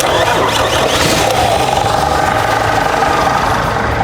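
Hino P11C diesel truck engine running with a 17-inch clutch, a loud, steady close-up rumble with metallic clatter throughout and no talk.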